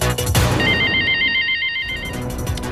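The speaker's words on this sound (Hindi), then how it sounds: "अहमदाबाद से एक दर्शक हमें फोन कर रहे हैं, राहुल जी।" A telephone rings loudly for an incoming viewer call on a Hindi business-news hotline show, giving a continuous electronic trilling bell pattern that lasts a couple of seconds, with no talking over it.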